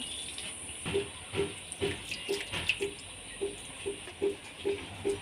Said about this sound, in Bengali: এবার আমি এক বাটি মতো ছোটো বাটির জল দিয়ে দেব